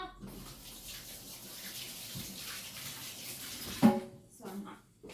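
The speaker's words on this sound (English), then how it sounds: "I'm going to wash my hands again real quick." Hands rinsed under a running faucet during a cake-pop baking class, a steady hiss of flowing water with a brief splash and clatter near the end before the flow cuts off.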